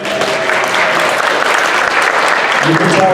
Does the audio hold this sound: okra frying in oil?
no